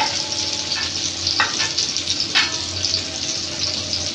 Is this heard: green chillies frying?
yes